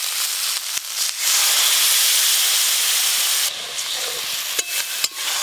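Spices with chilli powder, chopped tomato and salt fry in a pan after a splash of water, hissing and sizzling loudly and steadily at close range, with a few clinks of stirring.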